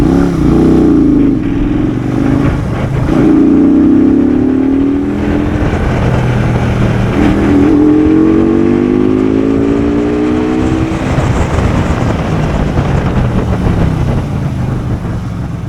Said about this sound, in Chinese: 再试一下吧，现在也就拿2档拉个高转